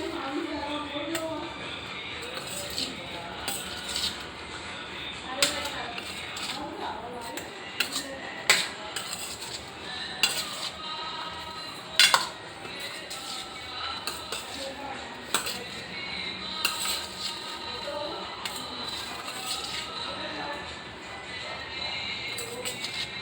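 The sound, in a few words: mixing moong and chana salad with spoon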